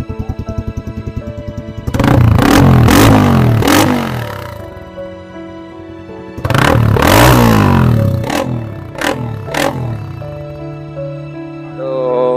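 Motorcycle muffler exhaust from a small Suzuki or Rusi bike, revved in two loud bursts of rising and falling roar over a steady idle, with a harmonic, close-up engine tone between the revs.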